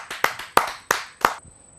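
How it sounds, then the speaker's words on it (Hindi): Audience applause at a televised kavi sammelan poetry gathering, welcoming a poet to the stage: several loud, sharp bursts of clapping in quick succession, nearby, fading out. "आइए जोरदार तालियों से आमंत्रित करते हैं"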